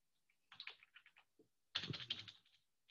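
Quick, light keystrokes on a computer keyboard as a word is typed into a website search bar, two short bursts of clicking close and clear with no talk.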